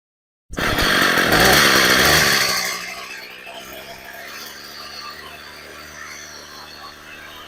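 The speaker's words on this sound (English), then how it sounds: "This thing was sitting completely seized and it runs" An Echo string trimmer, freed after sitting seized and fitted with a new spark plug and air filter, starts abruptly and revs loudly for about two seconds, then settles into a quieter, buzzing two-stroke idle.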